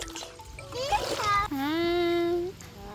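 Water splashes and gurgles briefly, followed by a voice giving a long, rising drawn-out call over faint background noise.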